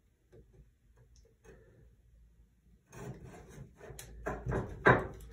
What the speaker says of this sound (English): So I'm just stripping the casing.